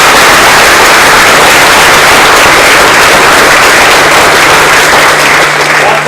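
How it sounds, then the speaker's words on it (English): A crowd at a school district meeting gives a loud, close round of applause, a thick wash of clapping hands that holds steady throughout with a faint low hum underneath. "So let's give our district a round of applause."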